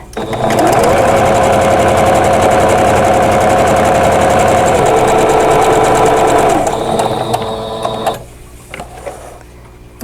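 A sewing machine stitching a quilt block seam, a loud, fast, steady mechanical whir close up for several seconds, then slowing and stopping, followed by small clicks and handling sounds.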